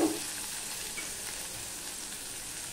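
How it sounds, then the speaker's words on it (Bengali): Chopped onion hits hot spiced oil for a tempering and spits loudly at first, then settles into an even, continuous sizzle close by, alone without voices. "এবার আমি পেঁয়াজটা ফোড়নে দিয়ে দিলাম।"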